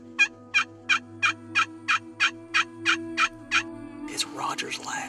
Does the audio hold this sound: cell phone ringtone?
no